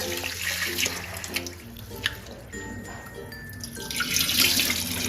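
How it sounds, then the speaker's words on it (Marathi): Water runs and splashes in a sink as sago pearls are rinsed by hand, with a steady flowing sound and occasional swishes. "आता पाण्याने धुवून घेऊ आपण।"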